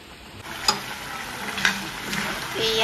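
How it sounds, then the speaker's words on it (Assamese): Meat fries in a pan until lightly browned, giving a steady close sizzle with occasional sharp clinks from stirring and no talk. "এয়া মাংস বনাইছোঁ অকণমান টুকটুকীয়াকৈ"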